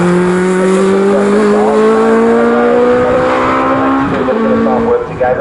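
Legends race cars lap Snetterton circuit, a loud, sustained engine drone whose harmonic pitch climbs steadily as the cars accelerate along the straight, with a brief dip near the end.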